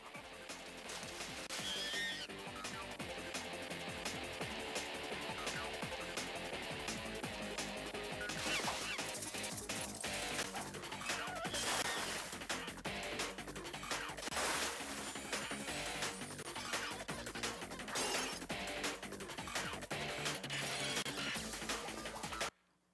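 Frenetic animated action from the Powerpuff Girls movie, a dense, loud, nonstop mix of music, crashes, impacts and rapid effects running almost unbroken before stopping abruptly at the end.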